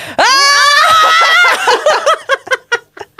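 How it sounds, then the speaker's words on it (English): Several people let out one loud, sustained shout together, then it breaks into a run of short, choppy bursts of laughter and giggling that fade out. "But should we do a scream? Yes, right, let's do a scream."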